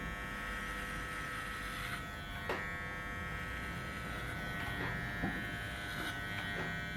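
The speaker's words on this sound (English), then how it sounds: "the icon's always been quite a powerful clipper, and the legend's no different" An electric hair clipper hums with a steady high buzz, running continuously at close range, with a few brief clicks and scrapes as it moves.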